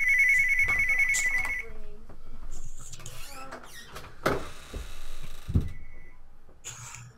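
A phone ringtone chimes briefly at the start, a clear repeated electronic tone, followed by scattered clicks, rustles and handling noises in a quiet room.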